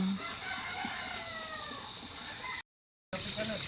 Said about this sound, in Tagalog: ang gigising po ay mga tilaok ng manok.